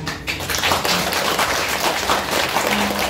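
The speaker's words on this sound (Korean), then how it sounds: "그 우리 직원들을 위해서 항상 그 감사한 그런 박수 주시면 감사하겠습니다" An audience at a neighbourhood community gathering claps in thanks for staff, a dense rapid patter of hands rising quickly and holding steady for a few seconds.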